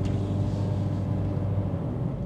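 A cheap secondhand Toyota Corolla on a test drive: a steady low engine drone and road rumble from inside the cabin, even and continuous throughout with no voices.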